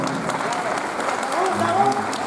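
An audience applauds musicians with steady, dense clapping and crowd noise, while a voice talks over it.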